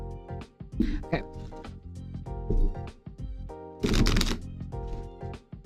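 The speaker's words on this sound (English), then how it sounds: "Oh my god, are you actually hearing the shuffling?" A deck of tarot cards is shuffled by hand in crisp, riffling bursts separated by short pauses, close and clear, with a few soft vocal sounds between shuffles.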